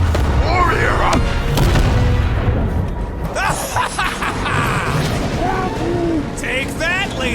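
Barrage of booming blasts and gunfire in the video game Guardians of the Galaxy during a fight, a dense continuous wash of explosions under character dialogue.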